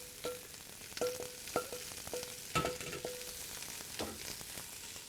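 Onions frying in a pan of oil for a simple French onion soup, with a soft steady sizzle broken by sharp clicks and scrapes of a wooden spoon stirring, close and moderately quiet.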